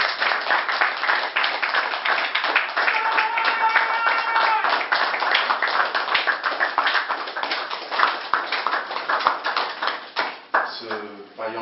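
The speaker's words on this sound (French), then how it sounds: "j'aimerais qu'on applaudisse" Audience applause at a French-language ceremony honouring a physician, a sustained burst of clapping from a hall of people that runs several seconds before thinning out, with a voice speaking over it near the end.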